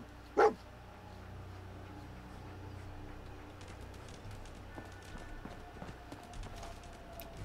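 Dogmeat, the dog companion in Fallout 4, lets out a single sharp bark near the start, followed by soft footsteps and faint game ambience.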